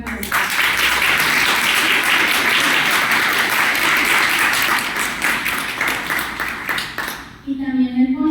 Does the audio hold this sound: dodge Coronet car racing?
no